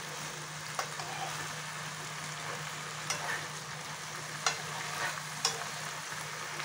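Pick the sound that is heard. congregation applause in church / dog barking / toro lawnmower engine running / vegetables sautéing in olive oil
vegetables sautéing in olive oil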